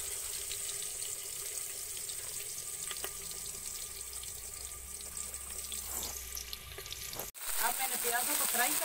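Onions fry in cooking oil with a constant soft sizzle and hiss, and the sound grows noisier and brighter toward the end.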